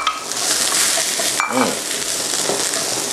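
Vegetables stir-fry in a pan with a loud, close, continuous sizzle and a brief burst of scraping and tossing midway, with no talking.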